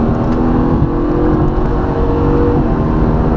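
A 2015 Mercedes-AMG GT S with a V8 accelerates hard around a roundabout, a loud, steady engine roar that builds continuously from close by with no pauses.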